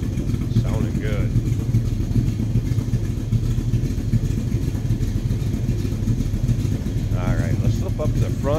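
A 1968 Chevrolet C10 regular cab shortbox truck engine runs steadily at idle, a continuous low rumble close by, with brief faint voices over it near the start and end.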